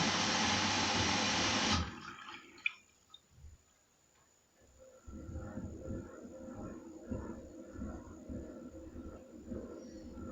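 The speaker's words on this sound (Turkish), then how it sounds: "Kendisi de su alıyor şu an." A Bosch washing machine on an Easy Care 60° pre-wash cycle with extra rinse fills with water for pillows: a loud rushing inflow that cuts off, a brief quiet with small clicks, then a steady lower churning hum of water entering the drum.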